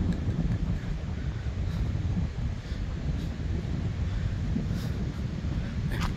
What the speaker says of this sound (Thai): ลมพัดหลายพี่น้องเลยลมพัดแห้งหลายเนาะ